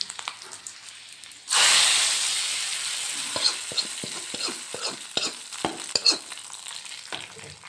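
Bay leaf, panch phoron, dried and green chillies tossed into hot oil for vegetarian khichuri, a sudden loud burst of sizzling that slowly settles, then repeated spoon clicks and crackles against the pan, up close.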